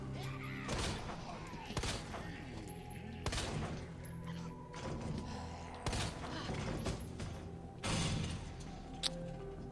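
Submachine gun fire in Resident Evil 2 Remake on Nightmare mode with the City of the Dead mod, heard as loud bursts of automatic shots repeating roughly every two seconds over steady game background noise.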